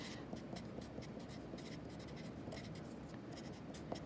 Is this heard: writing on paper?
yes